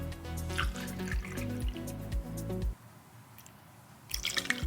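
Bourbon pours into a cup with a glugging, rhythmic series of liquid gulps from a bottle for nearly three seconds, then quiet before faint handling noises, close and soft with no talking.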